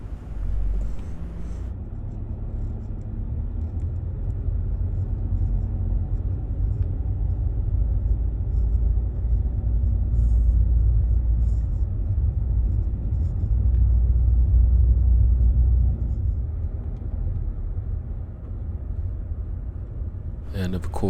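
A car rolls slowly along a road through Princess Place Preserve in Florida, a steady low engine and tyre rumble that stays close and even for the whole stretch, with no talking.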